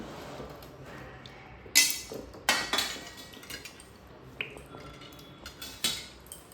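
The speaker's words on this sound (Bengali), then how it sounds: "আমগুলো খুব ভালোভাবে ধুয়ে নেব।" Raw green mangoes, more than a kilogram, are washed by hand in a bowl of clean water, with sparse close clinks and knocks against the bowl and faint splashing between the louder hits.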